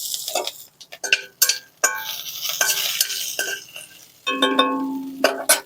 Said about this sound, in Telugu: పచ్చిమిరపకాయలు ఒక రెండు చీలుకొని వేసుకుంటున్నా